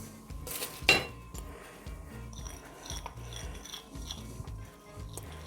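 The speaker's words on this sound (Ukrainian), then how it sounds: "Перемішую тепер це все" A spoon clinks and scrapes against a bowl while mixing a honey sauce, in a steady, repeated stirring rhythm, close up and fairly quiet.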